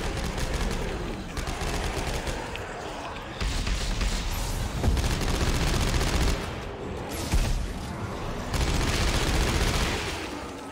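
Sustained gunfire in the Dead Space video game: dense continuous bursts of loud shooting with brief pauses, close and heavy throughout.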